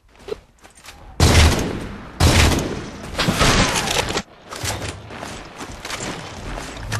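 Gunfire in the Halo video game comes in heavy, loud bursts separated by short pauses, with booming impacts and sustained automatic fire across several stretches.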